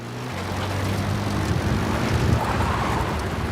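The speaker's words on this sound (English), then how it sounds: "We have an enemy chopper, though." Enemy helicopter in the video game Metal Gear Solid V, a continuous droning engine and rotor hum that holds steady and fairly loud throughout, with no talking.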